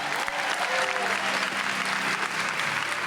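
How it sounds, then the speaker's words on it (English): An audience at the annual Best and Brightest awards ceremony applauds an honorable mention winner in the art category. The clapping is steady and dense throughout. "Thank you for the applause."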